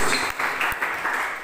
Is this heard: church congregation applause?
yes